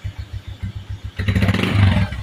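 A Motorstar motorcycle engine with a converted 155 side setup putters at a steady idle, then picks up into a louder, busier running note, close by.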